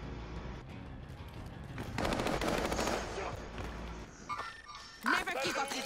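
Video game gunfire in Fortnite, heard as bursts of rapid automatic shots mixed with a voice talking over them, moderately quiet and busy, with a sharper burst near the end.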